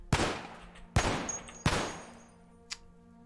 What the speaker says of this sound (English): gunfire has already started